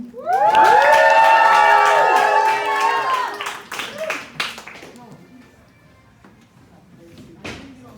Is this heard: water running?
no